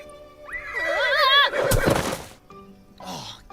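A horse named Jolly Jumper gives a loud, close whinny with a wavering pitch that rises and falls, followed by a burst of noise and a shorter second neigh, with no talk.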